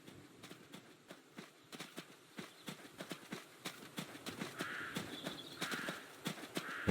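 Hooves of a horse in the video game Adios clip-clop in a steady walking rhythm, soft and moderately close. There are a dozen or more distinct strikes with faint background ambience.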